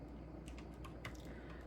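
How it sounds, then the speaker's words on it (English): Typing on a computer keyboard: a run of light, irregular key clicks, faint against a steady low background hum. "It will show up on screen as I'm typing it"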